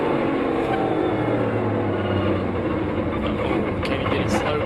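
Onboard a NASCAR Cup Series race car driven by Bubba Wallace at EchoPark, a loud, steady engine roar with wind and rattling, close and unbroken throughout.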